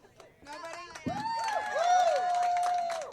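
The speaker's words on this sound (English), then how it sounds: "So now I want you guys by applause. You guys tell me who's coming on the brewery tour with me." An audience at a live comedy and music show tied to Busted Sandal Brewing whoops and cheers in drawn-out shouts that swell and hold, with scattered voices mixed in.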